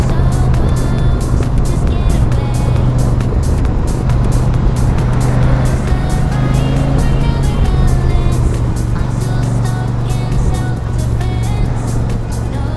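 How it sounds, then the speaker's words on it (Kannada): Dense road traffic on a route toward a tiger reserve, heard from a moving motorcycle, a loud continuous rumble of engines and tyres with passing vehicles, no talk. "ಅಷ್ಟು ಟ್ರಾಫಿಕ್ ಆಗ್ಬಿಟ್ಟಿದೆ"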